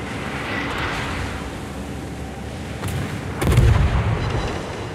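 A ship's naval guns fire a broadside in a video game, a single heavy, booming salvo with a deep rumbling tail that follows a stretch of steady ambient noise.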